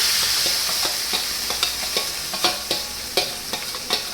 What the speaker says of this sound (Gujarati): એને થોડી વાર સાતરવા દેવાનું છે આપણે